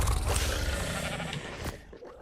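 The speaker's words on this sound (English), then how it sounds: "we got a bunch of naked sheep here" Sheep bleating in the game ARK: Survival Ascended on the Valguero map, a cluster of freshly sheared sheep calling close by, overlapping bleats over a dense wash of game ambience that tapers off toward the end.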